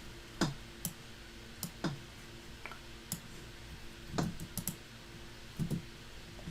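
Sparse keystrokes on a computer keyboard while code is written, scattered clicks and short clusters of taps at an unhurried pace over a quiet room hum.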